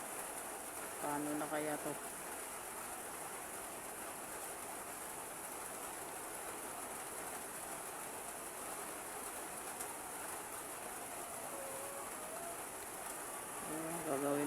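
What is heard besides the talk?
continuous rain falling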